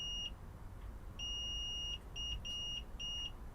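Electronic continuity beeps from a multimeter during an electronics repair, a series of sharp high tones, one short, one long and three short, with quiet gaps between them.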